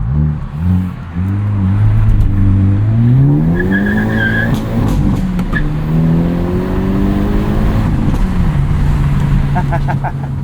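A manual 2022 Hyundai Elantra N driven hard, its engine revving and shifting loudly up and down while the tires squeal and skid through the whole stretch, close and prominent.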